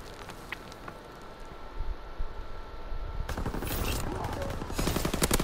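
M38 rifle and other gunfire in a World War II video game. A quieter stretch with occasional sharp cracks gives way to dense, loud volleys and rapid shots, and faint talk sits underneath.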